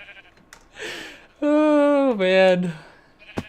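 A sheep bleats in Minecraft, one loud drawn-out wavering bleat followed by a shorter second one, with a brief spoken remark before it and a click near the end.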